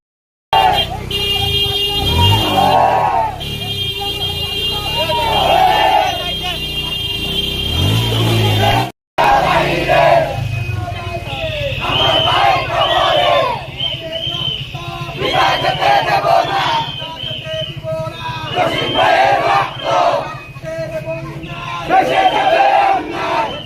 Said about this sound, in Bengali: মানববন্ধনকারীরা মানববন্ধন শেষে প্রতিবাদী স্লোগান দিয়ে মিছিল নিয়ে আনন্দবাজার মোড় হয়ে মুন্সিপাড়া মোড়ে গিয়ে সমাপ্ত করেন